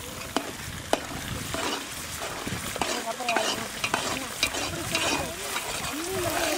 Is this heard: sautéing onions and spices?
yes